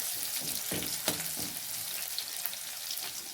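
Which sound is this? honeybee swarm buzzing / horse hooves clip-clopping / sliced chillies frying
sliced chillies frying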